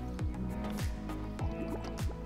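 Bubbles blown through a straw into a thick, fibrous drink, a run of deep gurgling blubs and sputters that rise and fall several times over a couple of seconds, close to the microphone.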